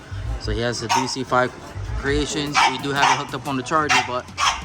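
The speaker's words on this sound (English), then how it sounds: "So excuse my dog barking in the background" Dog barking in the background behind steady close male speech, several short barks and yips scattered through the clip while someone talks about a car's relocated battery and charger setup.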